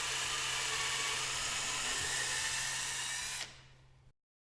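A power drill boring small pilot holes into a wooden header board, one continuous close whine held for over three seconds before it drops away and winds down to silence.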